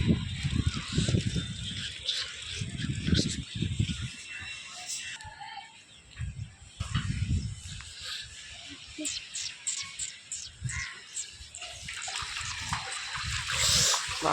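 Rainwater sloshes and trickles in a flooded area turned into a small pool, with splashy bursts and steady running water, while people talk intermittently nearby.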